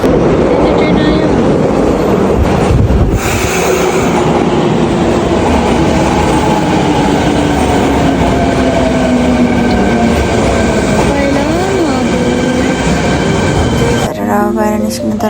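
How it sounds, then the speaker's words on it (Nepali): A train rumbles and rattles loudly into a station, steady clatter with squealing wheels and a rising-and-falling tone, a voice briefly heard under it near the end. "ट्रेन आयो।"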